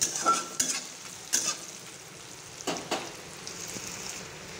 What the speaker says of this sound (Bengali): তেজপাতা এলাচি দারচিনি ভাজা হয়ে গেল।